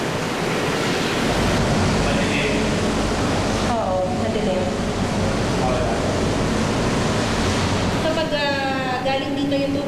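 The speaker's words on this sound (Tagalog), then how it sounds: "dito raw napupunta yung malinis na tubig" Treated, chlorinated water flows steadily at a water treatment facility, a constant loud rushing wash filling the whole span, with people talking over it.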